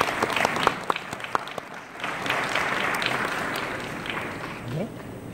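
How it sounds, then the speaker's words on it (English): Fashion show audience at an Asus ZenBook x Rajo Laurel event applauds Miss Universe, scattered sharp claps building into a sustained, even round of clapping. "Let's give her a round of applause."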